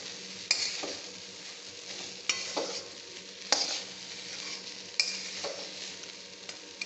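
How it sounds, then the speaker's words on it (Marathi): Okra and flour roast in a pan over high heat with a soft, steady sizzle, broken by four sharp scraping stirs at regular intervals, close and clear. "ते पीठ थोडं भेंडीबरोबर भाजून घ्यायचं."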